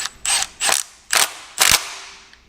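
A torque wrench ratchets in four separate short bursts of clicking with brief pauses between them while tightening timing cover bolts on a Ford engine during a V8 swap. The clicks sound close and crisp, with no talk.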